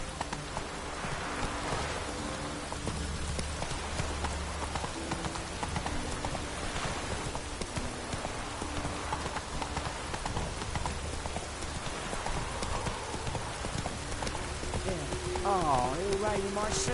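Rain falls steadily while a horse's hooves clip-clop along in The Witcher 3 video game, the rhythmic hoofbeats running beneath continuous rainfall throughout.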